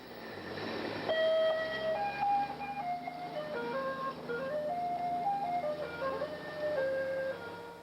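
The funny horn of an old Merc milk truck in Vancouver plays a jingly tune of sustained, bright notes, steady and fairly loud throughout with no talk.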